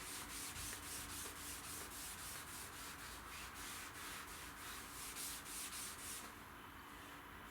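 Steady back-and-forth rubbing of a cloth working finish into the grain of an oak tabletop during resurfacing, a continuous close scrubbing texture with rhythmic strokes that eases slightly near the end.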